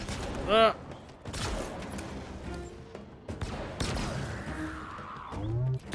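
Shock rifle fire in Halo Infinite cracks in short sharp bursts with electric zaps amid scattered combat noise and a voice talking over the action.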